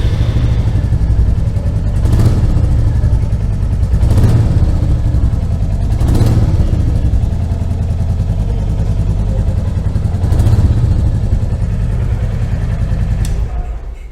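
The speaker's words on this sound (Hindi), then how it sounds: "बुलेट 350 में जो साउंड मिलेगा वो भी लगभग सिमिलर है, कुछ इस तरह का साउंड मिलेगा अपने को" A Royal Enfield Bullet 350 single-cylinder motorcycle idles with a steady, loud, close thumping exhaust beat, punctuated by several brief throttle blips at regular intervals before cutting off at the end.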